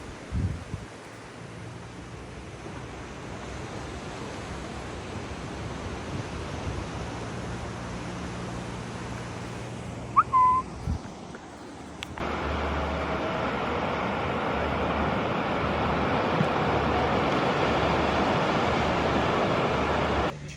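Ocean waves wash steadily onto a beach at Koh Lanta, a continuous broad surf hiss with a brief knock near the middle, then the surf swells louder and fuller for the rest.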